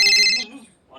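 A mobile phone ringtone sounds loud and near for a brief moment, a bright electronic tone that cuts off quickly before a voice begins.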